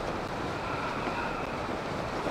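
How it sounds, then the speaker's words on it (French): Steady rain in the video game Zelda: Tears of the Kingdom, a continuous broadband hiss like falling water and wind, even and unbroken throughout with no talk over it. "Ok, il pleut."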